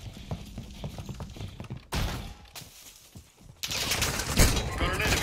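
Gunfire in Call of Duty Warzone 2 on Ashika Island, with rapid bursts of shots followed by louder, denser volleys and thuds, game voices speaking over the action.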